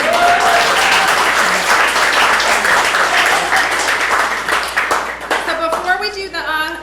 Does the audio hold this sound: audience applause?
yes